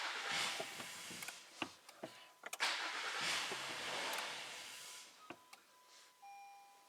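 A 2015 Acura TLX with its intake removed cranks and catches, then idles briefly and unevenly, with faint clicks, beeps and a steady electronic chime sounding over the engine noise at a moderate distance.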